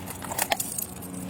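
A set of car keys jangles briefly during a sheriff deputy's roadside traffic stop in Florida, a short close metallic rattle over a low idling hum.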